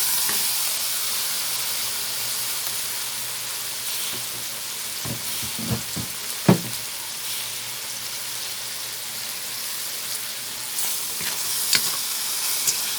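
Crab stir-fried with curry powder sizzles steadily in a hot pan, a continuous frying hiss broken by scattered scraping and stirring clicks, with no talk over it.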